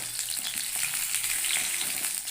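Potato pieces fry in a pan for a tengra fish curry, giving a loud, close, continuous hissing sizzle with faint stirring, and no voices.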